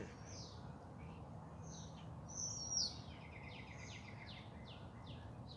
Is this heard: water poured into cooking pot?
no